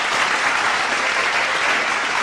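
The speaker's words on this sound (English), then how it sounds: "clap it up for her though" Audience applause for a Miss Earth USA guest on a talk show, a dense loud wash of clapping from the whole room, continuous and even throughout.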